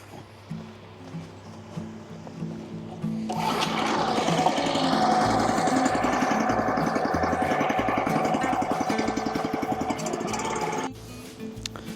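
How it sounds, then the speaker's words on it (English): A log splitter driven by a Honda GX270 engine chugs steadily for several seconds, its mid-pitched mechanical drone starting up after a quieter stretch and then cutting off abruptly. "I elected for the Honda GX270 and so far it's a really nice wood splitter"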